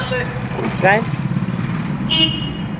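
Road traffic passing under a railway bridge on the repaired Kangaon–Patas road, a steady motor rumble with a short horn toot near the end and a voice speaking over it.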